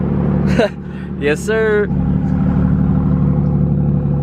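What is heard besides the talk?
BMW with ARM resonated downpipes idling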